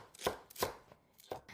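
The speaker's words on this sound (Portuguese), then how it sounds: "Vou picar a selga arco-íris" A knife chops through rainbow chard stalks on a cutting board in three crisp, close strikes spaced irregularly, with faint lighter taps between them and no voices.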